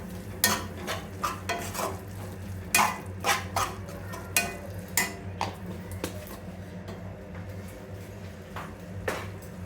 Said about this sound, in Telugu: ఇందులోకి వచ్చేసి జీరా పౌడర్ కూడా యాడ్ చేసుకోవాలి. మిక్స్ చేసుకోవాలి.